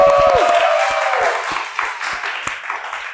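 Studio audience applause on a Ramadan-edition talk show, a dense steady wash of clapping that begins loud and gradually thins, with a few sharper individual claps standing out near the end.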